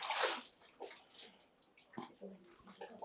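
Well water is poured out near the sea at the Manapad shrine, opening with a loud close splashing gush that fades into softer, uneven trickles and drips.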